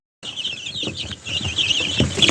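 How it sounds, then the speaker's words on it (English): High, rapid peeping of young chicks chirping continuously, close by, with soft rustling underneath and no talking. "these are my new chickens"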